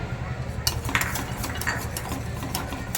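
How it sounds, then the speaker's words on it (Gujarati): A spoon stirs custard powder and milk powder quickly into hot milk in a metal pot, with repeated scraping and clinking against the sides. "આપણે ફટાફટ હલાવી લઈશું એટલે ગાંઠો ન પડે અંદર."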